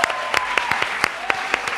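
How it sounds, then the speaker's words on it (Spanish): Applause for Pizzería Carlos at a live show before an audience: a run of distinct, fairly sparse claps in a loose rhythm, close and clear, with a faint voice underneath. "Un aplauso para Pizzería Carlos"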